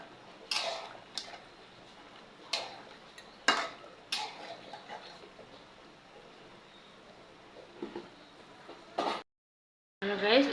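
A spoon stirring ground garam masala spice paste into chicken in a cooking pot, irregular clinks and scrapes against the metal at a moderate distance, briefly dropping to silence near the end.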